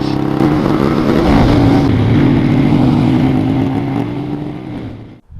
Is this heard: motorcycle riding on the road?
yes